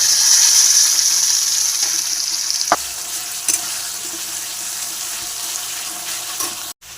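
Browned onions in a pan sizzle steadily with ginger-garlic paste, a continuous close hiss of frying that fades slightly over seven seconds. A few faint clinks sound in the background.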